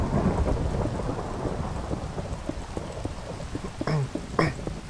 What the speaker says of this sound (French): Il y a de l'orage.